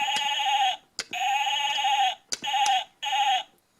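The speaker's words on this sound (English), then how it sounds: "Here's the sheep." A farm animal toy plays a sheep bleat, four long electronic baa calls in a row separated by short gaps and clicks, bright and close with no talking.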